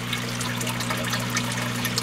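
An aquarium filter pump drawing in water, a steady close trickling and gurgling flow over a constant low mechanical hum, with no voices.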